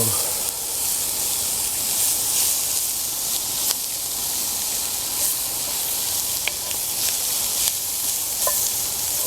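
Diced onions and tasso, a spicy Cajun cured pork loin, sizzle steadily in an oiled pan for smothered green beans, with a continuous bright frying hiss and occasional faint clicks of a utensil stirring.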